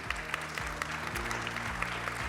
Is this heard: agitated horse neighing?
no